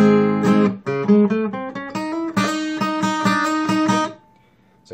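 Electric guitar plays the opening half of an instrumental, a loud, close run of sliding melodic notes over rhythmic chord stabs that fades out near the end, with no talking.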